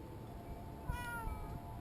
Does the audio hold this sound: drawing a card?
no